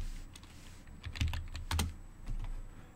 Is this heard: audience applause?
no